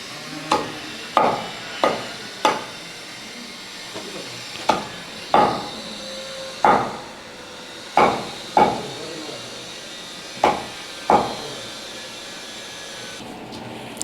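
Knife chopping a pile of herbs for homemade coconut hair oil, about a dozen sharp, separate cuts at uneven intervals, close and crisp, with no talking over them.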